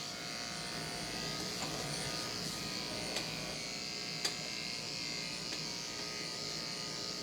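Electric clippers running on a dog's coat while shaving downward, a steady close electric buzz holding level throughout with a few faint clicks and no talking.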